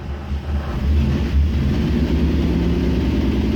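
A 1967 Jeep Gladiator with 6K original miles, dormant for over 30 years, runs close by with a steady, low, even rumble that holds without pause.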